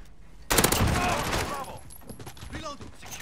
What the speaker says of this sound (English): Oh my gosh, more shotguns.